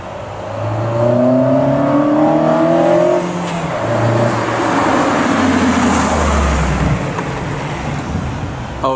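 An engine-swapped Fiat Panda 4x4 with a pod filter, loaded with heavy weight in the back, revs up in several rising bursts, the note climbing, dropping and climbing again, loud and close with road noise beneath.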